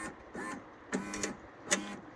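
Broken glass crunches and grinds inside the rear driver-side door of a 2018 Subaru Outback as the window lowers, coming in several short mechanical bursts that are quiet and close.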